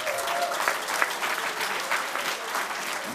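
Audience applause fills a council chamber before a 2018 municipal election debate in Papendrecht, a steady, dense clapping that stays loud throughout with no pauses.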